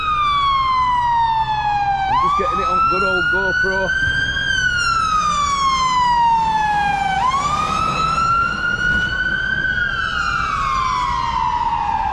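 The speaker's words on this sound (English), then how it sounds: "we've got a fire engine coming up" A fire engine siren wails up and down loudly in a city square outside a hotel, its rising and falling tone sweeping past up close with traffic rumble beneath and someone talking briefly over it.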